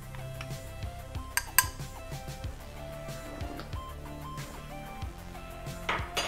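A spoon clinks and scrapes inside a cup while stirring a coffee drink with almond milk, a few sharp taps standing out over a quiet, steady background.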